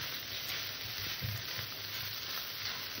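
Loté fish curry sizzles steadily in the pan as it is stirred with garam masala, a continuous broadband hiss with a few soft low scraping thumps from the spoon.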